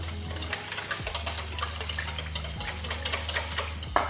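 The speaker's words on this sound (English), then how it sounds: "And we'll just give this a quick whisk." A whisk beats a lemon juice and olive oil dressing in a bowl in rapid, rhythmic light clicks and scrapes, close and fairly quiet, with a couple of louder knocks against the dish.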